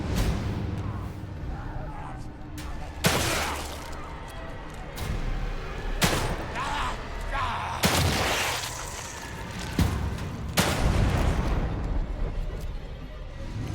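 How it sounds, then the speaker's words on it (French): Several loud, booming explosions from the video game The Evil Within 2 burst out at irregular intervals over a rumbling, noisy background, with faint voices underneath. "Ça c'est ce qu'on appelle une belle explosion ça."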